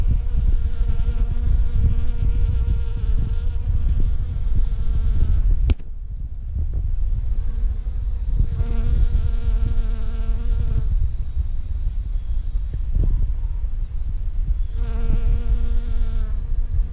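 Bees buzzing around a hive while collecting pollen, a loud, continuous close-up drone of several insects with a brief drop when the sound cuts, no talking.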